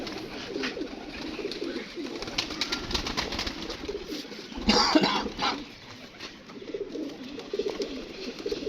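Blue-tailed pigeons cooing in a steady, low murmur, several birds close by, with a louder burst of fluttering or rustling midway through.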